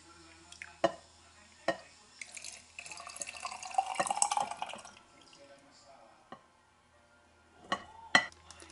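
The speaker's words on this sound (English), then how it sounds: "now we're gonna pour this brine that's in the jar, it's in the bowl," Sauerkraut brine poured from a bowl into a jar gives a soft, trickling splash that swells in the middle, set among sparse clinks and taps of glass in a quiet kitchen.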